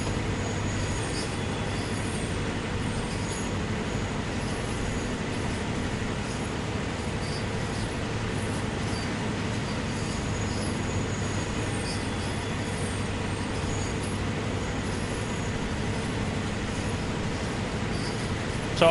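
A switcher locomotive rumbles steadily in the train simulator game Train Sim World, a continuous loud rolling drone with wheel and rail noise and no break or speech.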